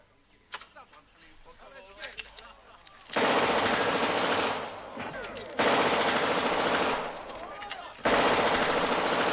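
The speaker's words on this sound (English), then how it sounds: "Perhaps, Your Highness Abdul would care to fire the Maxim gun?" A Maxim machine gun fires in a 1975 film scene, three long, loud bursts of rapid automatic fire separated by short pauses, preceded by brief voices and movement.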